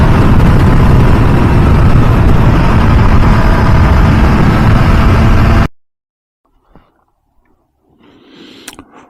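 A 2023 MV Agusta Dragster 800RR with its stock exhaust runs as a loud, steady engine drone for several seconds, then cuts off abruptly into near silence broken by faint scattered sounds.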